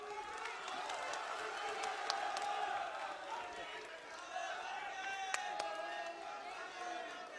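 An audience at a Rahul Gandhi political rally in India, heard as a steady wash of applause and cheering crowd noise with scattered shouts and whistles, moderately distant and continuous throughout.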